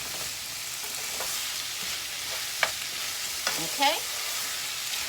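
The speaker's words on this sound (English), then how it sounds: "So you'll just move this around in the skillet for about a minute." Cooked fajita beef strips sizzle in a hot skillet while being stirred and pushed around to heat through. A steady frying hiss runs throughout, with a few scraping stirs and a brief spoken word near the end.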